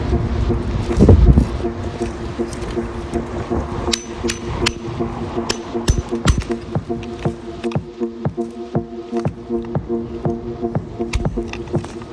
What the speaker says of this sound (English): how I'm breaking these with this chisel and hammer.